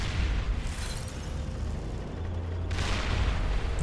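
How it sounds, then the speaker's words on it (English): Artillery units in the real-time strategy game Beyond All Reason shell defensive positions, giving a continuous rumble of booming explosions with a sharper burst near the end. "there is small units of artillery shelling away at the defenses"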